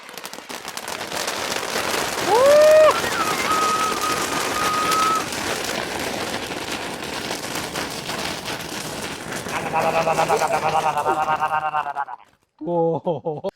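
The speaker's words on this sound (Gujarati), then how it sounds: "આ જે કોસ્મિક ફોર્સ નામનો ફટાકડો છે જોઈએ કઈ રીતે ફૂટે છે." Crackling bursts and a rising whistle from a Cosmic Force firecracker going off during firecracker testing in Dhoraji, with fizzing sparks and people talking throughout, then sharp pops near the end.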